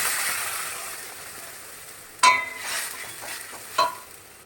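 Spice paste hits hot oil in a pan while cooking lota fish: a low frying hiss runs under two sharp bursts of sizzling and stirring, close and fairly loud, with no talking.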